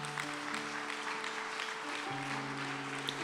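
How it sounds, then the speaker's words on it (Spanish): A church congregation at a conference claps together in a steady, moderate wash of applause, with sustained organ or keyboard tones underneath. "Denle un aplauso a Dios por su honestidad"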